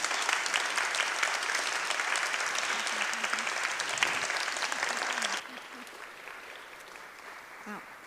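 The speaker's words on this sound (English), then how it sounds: "Can we have a big round of applause?" Audience applause after a cello performance in Richmond, steady dense clapping for about five seconds before dropping abruptly to a quieter, thinning patter.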